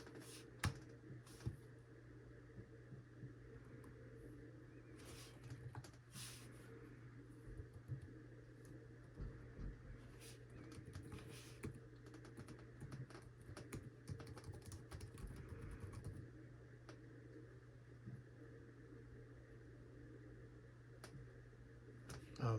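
Typing on the keyboard of a used HP ZBook 15 laptop, a faint, steady patter of key clicks with occasional louder taps over a constant low fan hum, close by with no talking.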